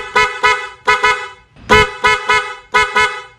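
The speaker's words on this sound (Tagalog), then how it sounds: "Ganun kalakas ang sound or yung sound test ng PIAA Style Horn." A pair of PIAA Oto-style car horns blares in loud, rapid double honks, repeated about seven times in quick bursts, close up with no talking.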